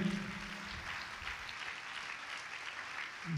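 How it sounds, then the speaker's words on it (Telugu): A church congregation claps to glorify God, a steady wash of applause at moderate distance that holds for about three seconds before a voice comes in at the end. "చప్పట్లు కొట్టి దేవుడు మహిమపరచండి గట్టిగా"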